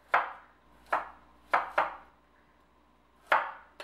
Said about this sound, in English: I'm going to cut this on a diagonal.